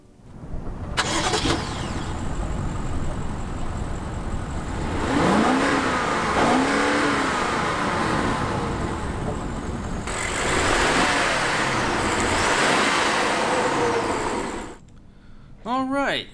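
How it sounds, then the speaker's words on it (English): A 2016 BMW 750i luxury sedan fires up with its push-button start, then settles into a steady, close idle and revs, with a brief pause near the end. "let's start up the engine here and see how that sounds with that push button start right there"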